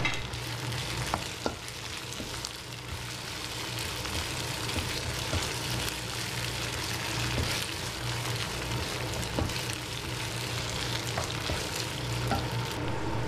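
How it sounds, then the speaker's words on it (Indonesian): Petai beans and sliced scallions sauté in an oiled pan, an even, continuous sizzle close up, with occasional soft taps and scrapes of stirring throughout. "tumis sebentar"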